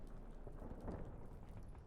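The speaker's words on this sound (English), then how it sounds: "Didn't bargain for no storm." Storm rain at sea in The Witcher 3 video game, a steady, soft wash of falling rain with a faint low rumble underneath, no voices.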